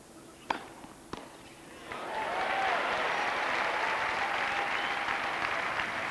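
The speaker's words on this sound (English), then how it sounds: "the crowd beginning to be heard now and making themselves known" Two sharp thuds of tennis ball hits, then a tennis crowd at an Edberg versus Henman match breaks into sustained applause that swells and holds steady, with a faint whistle.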